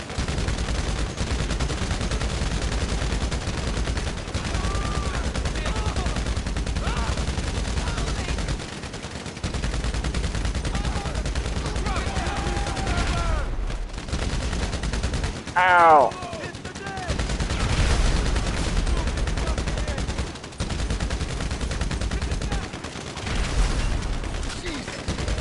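Bursts of automatic machine-gun fire from GTA Online gameplay rattle repeatedly over game ambience, with short pauses between volleys and a few louder explosive hits midway.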